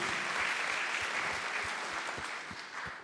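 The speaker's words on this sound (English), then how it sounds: "Round of applause, please, everybody." Audience at a university student founder showcase claps steadily for a few seconds, a moderate, even patter of many hands from a seated crowd with no voices over it.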